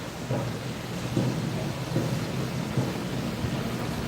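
Steady rain with rumbling thunder during a storm seen from a condo balcony in Mactan Newtown, a dense continuous wash with low booming swells recurring every second or so, no voices.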